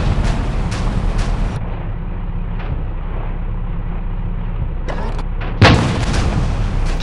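Tank cannon fire in the War Machines tank shooting game, with a dull boom near the start and a sharper loud blast later over a constant rumbling game background.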